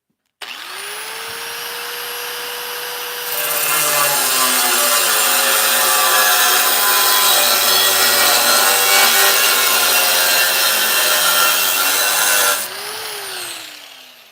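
A power saw cuts through scrap aluminum in a shop, a loud, sustained whining and grinding roar that spins up, bites harder through the metal for about nine seconds, then winds down. No one speaks.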